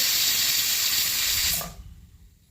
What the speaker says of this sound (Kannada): ಈಗ ವಿಜಲ್ ಬಂದಿದೆ